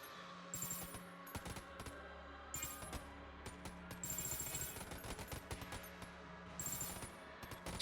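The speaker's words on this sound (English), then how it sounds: "This is a pretty good gun to do it with because it has a lot of ammo that continues to use casings." Rapid gunfire in the video game Enter the Gungeon, a stream of quick shots with bright metallic pings of spent casings dropping, in repeated bursts over a low background hum, with no talking.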